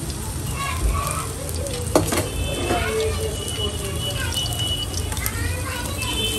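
Onion, sweet corn and tomato sizzle and fry in a hot pan while being stirred for an omelette, with steady frying hiss and scraping strokes under continuous talk.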